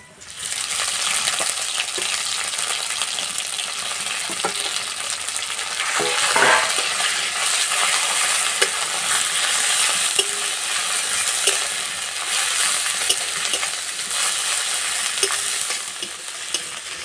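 Ground coriander leaves frying with garlic in a pan, stirred continuously for a long stretch with a loud steady sizzle and scraping; no voices.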